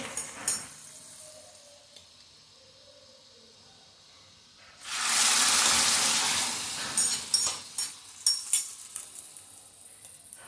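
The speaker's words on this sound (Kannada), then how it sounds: "ಒಗ್ಗರಣೆ ರೆಡಿ ಆಗಿದೆ. ಸಾಂಬಾರಿಗೆ ಹಾಕ್ಕೊಳ್ತಾ ಇದ್ದೇನೆ." Quiet clinks, then a sudden loud sizzle as hot tempering oil is poured into okra sambar, hissing briefly before fading into a few soft clatters.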